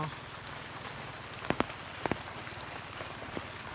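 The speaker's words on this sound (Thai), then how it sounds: "ฝนตกอยู่" Steady rain patters on a surface, with a few louder drops striking nearby against the constant hiss.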